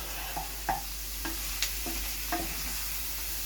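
Sausages sizzling in a frying pan for devilled sausages, with a steady quiet hiss and a few soft scraping stirs spaced about half a second apart, close by and without talk.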